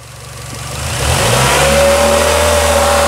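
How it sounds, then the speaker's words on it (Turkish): A rebuilt Opel Astra 1.4 turbo engine starts and is revved, rising from a low idle rumble into a louder, steady mid-pitched drone that holds close and strong to the end, no talking over it. "Aracımızı çalıştırdık. Hafif gaz ver abi."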